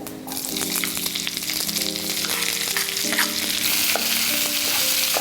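Large chopped onion with a bay leaf frying in hot oil gives a loud, steady sizzle and crackle, with no voices over it.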